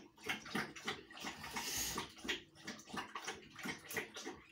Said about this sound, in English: My dog's drinking water. God, he's a loud drinker, isn't he?